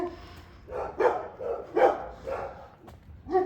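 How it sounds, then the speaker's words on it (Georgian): A dog barks several times in short bursts at moderate distance, spaced irregularly across a few seconds, with no other prominent sounds. "ის ძაღლი იყო?"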